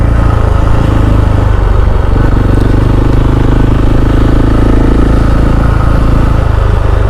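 A KTM 690 SMC R supermoto's single-cylinder engine runs close and loud for the whole stretch, a steady droning rumble with no voices over it.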